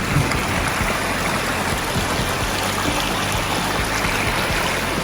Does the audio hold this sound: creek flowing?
yes